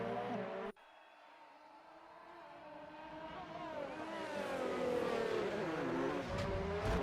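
An F1 race car in a video game at the Baku circuit rises in engine pitch as it accelerates down the straight and draws closer, its whine growing louder and steadier after a brief sharp cut.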